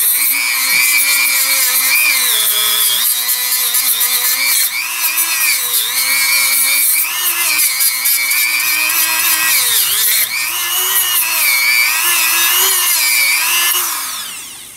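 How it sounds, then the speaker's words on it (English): A Dremel rotary tool with a wire wheel cleans the snap ring groove on a 1997 Ford F250 Super Duty Dana 50 IFS front axle U-joint cap, a loud, close, high whine that wavers in pitch under load before spinning down, with no talking. "Now I'm going to hit it with a Dremel tool and a wire wheel to make sure that we got a good spot there for that to nest into"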